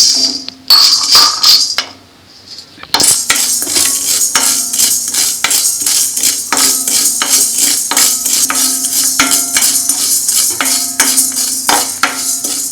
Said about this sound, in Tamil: அந்த 1/4 டம்ளர் மிளகை போட்டு அதை வறுக்கணும்